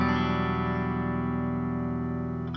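Guitar played through an OTTO amp sim with gain raised slightly on a glassy clean patch rings out as a sustained, lightly distorted chord, fading gradually over about two seconds.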